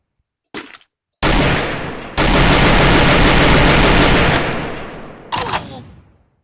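Grenade launcher fire in a Free Fire custom match: a brief burst, then long, loud, sustained rumbling blasts and a final shorter burst, all close and continuous with no talking.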